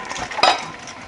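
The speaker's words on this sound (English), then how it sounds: "We're going to stir that." A spoon stirs custard in a pot for ice cream, giving one brief, close metallic scrape and clink against the pot with a soft swish around it.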